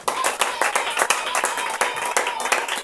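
A church congregation clapping together in a quick, steady rhythm, with sharp, loud and closely spaced claps that carry on without a break.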